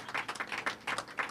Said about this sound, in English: Lieutenant Governor Karyn Polito, yes, you can clap for her